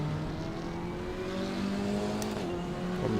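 KTM X-Bow race car in Assetto Corsa Competizione at Donington, engine revving hard and accelerating off the start line with other cars close by, a loud steady roar climbing in pitch for about three seconds without talk.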